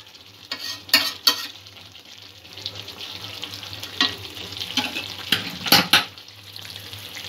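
Chicken kalia fries in a pot while a spoon stirs it, with a steady sizzle beneath repeated sharp scraping clanks against the metal, close and fairly loud.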